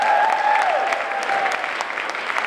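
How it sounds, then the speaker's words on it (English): Audience applause at a school spring pops concert, a steady sustained wash of clapping from a full room for the soloists, with a brief tonal note from the stage near the start. "little big round of applause for our solos"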